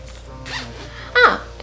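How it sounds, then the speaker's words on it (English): A zipper on a cosplay skirt is drawn in two quick close pulls, the second sharper and louder, with a soft low hum underneath. "come on zipper, be a good zipper."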